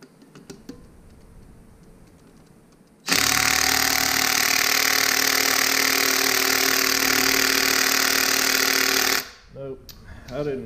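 DeWalt power tool hammering at seized air brake parts on Dexter 15k trailer axles, a loud, continuous rapid rattling burst of about six seconds that starts and stops abruptly after quiet background, with faint noise following.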